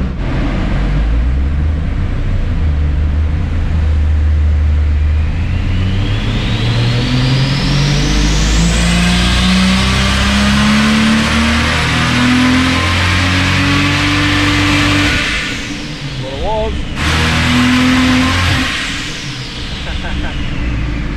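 A turbocharged Ford Barra engine revs hard on a hub dyno, its loud note climbing steadily under boost, then a brief dip and a fresh rise, with voices heard over the roar.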